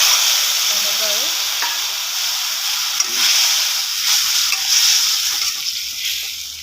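Dried chilli paste fries in hot oil in a wok, giving a loud, steady hissing sizzle that carries throughout with a few faint utensil taps.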